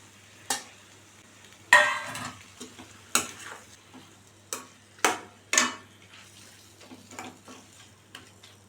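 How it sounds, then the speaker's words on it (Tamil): Brinjal being sautéed in oil for eggplant thokku, heard as a series of distinct scraping stir strokes every second or so over a faint low sizzle, fairly close and with no talking. "இப்போ நம்ம வதக்கி வச்சுருக்க கத்திரிக்காயை சேர்த்து வதக்கிக்கலாம்."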